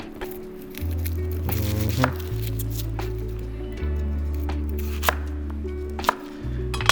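A knife halving small vegetables, a few soft squishy cuts and sharp taps on a board spaced a second or so apart, over quiet background music.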